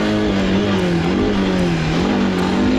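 A Honda Rancher ATV fitted with paddle tires accelerates hard, its engine note rising and wavering steadily at close range, loud and continuous without talk.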